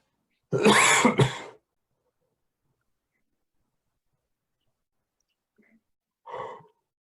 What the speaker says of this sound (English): So that was a pretty big yawn.